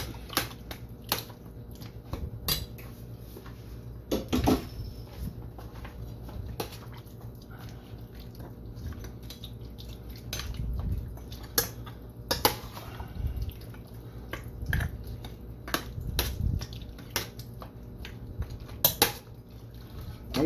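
A spoon clanks and scrapes against a pot while tomatoes are stirred into Jamaican oxtail, with repeated sharp metallic knocks over a soft, wet simmer. Nobody speaks.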